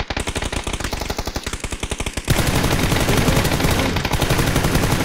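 Automatic gunfire in the video game PUBG: a rapid, evenly spaced burst of loud shots, then a denser, continuous stream of firing that carries on to the end, close and with no talking.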